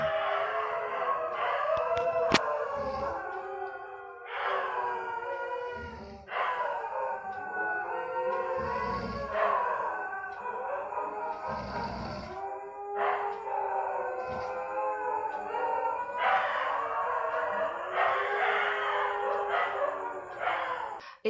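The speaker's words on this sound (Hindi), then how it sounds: "जब वो डॉग मतलब रो रहे थे, वो बहुत ही ज़्यादा क्रीपी साउंड कर रहा था" Several dogs howl and wail at night, their long, mournful cries rising and falling and overlapping in repeated waves, moderately distant with occasional yips and barks between them.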